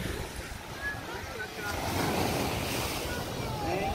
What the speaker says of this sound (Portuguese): Tá aí, gente, uma praia de New Jersey.